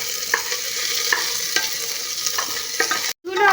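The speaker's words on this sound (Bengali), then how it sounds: "সব সবজিগুলো দিয়ে নেড়ে নেব।" Chicken stew vegetables (onion, beans and carrot) sizzle in a frying pan while a utensil stirs them in steady scrapes, the sizzle cutting out briefly near the end before a louder burst of frying resumes.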